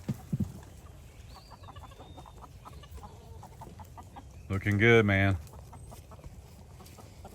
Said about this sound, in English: that's a brave little chicken right there.